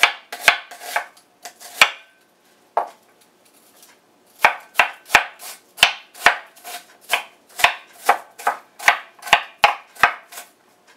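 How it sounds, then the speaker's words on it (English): A knife chops onion finely on a cutting board for turkey sandwiches, a fast run of sharp, close knocks that starts in scattered bursts and settles into a steady rhythm, with no talking. "Just chop it nice and fine."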